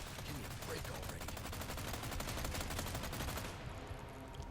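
Rapid video-game gunfire rattles in a fast, even machine-gun rhythm for several seconds, fairly quiet, then cuts off into a calmer tail.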